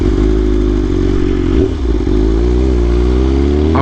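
A BMW M1000RR motorcycle accelerates while ridden, its loud, close engine droning with a strong harmonic tone that dips briefly, then climbs steadily in pitch.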